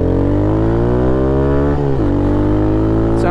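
A Honda Monkey motorbike engine revs hard and close, a steady buzzing drone that dips briefly and then climbs again, with no talking over it.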